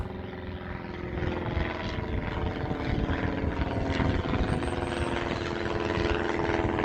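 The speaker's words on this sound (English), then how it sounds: "Oh, we've got a plane coming over." A plane flying overhead outdoors in Portugal, a steady broad engine drone that builds slightly and stays loud and continuous, alone without talking.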